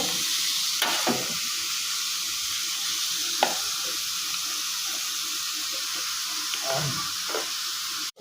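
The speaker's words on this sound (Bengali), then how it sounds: "এবার এর মধ্যে ওলের ডাঁটা চলে যাবে" Elephant foot yam stalks fry and sizzle in a pan with salt and turmeric, a steady hiss broken by a few scraping stirs of the spatula, close and continuous with no talk.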